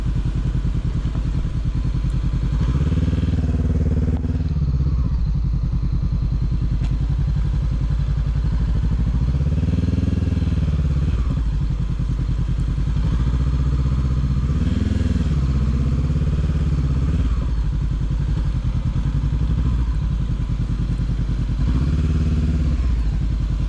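A Honda CB500F motorcycle ridden at an airfield, its engine droning loud and continuous from close range, with the pitch rising and falling repeatedly as the rider works the throttle through the gears.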